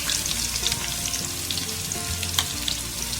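Onions sautéing in a pan for a chicken biryani masala, a steady close sizzle and crackle with occasional stirring scrapes, no talking.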